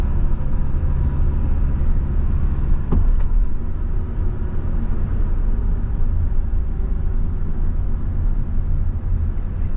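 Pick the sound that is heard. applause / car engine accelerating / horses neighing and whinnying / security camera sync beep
car engine accelerating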